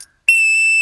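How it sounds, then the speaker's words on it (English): A rape whistle blown once, a sharp shrill piercing tone lasting about half a second after a brief silence, loud and close. "I got a rape whistle"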